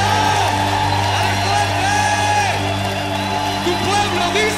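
Church congregation cheering and whooping in a large hall, a dense, continuous crowd roar with shouts rising above it, heard beneath a steady musical drone.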